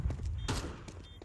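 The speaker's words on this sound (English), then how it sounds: "Huge nade. Maximum damage." A grenade goes off in a Counter-Strike esports match, a short sharp blast amid a few gunfire-like thuds, heard fairly quietly within a brief game moment.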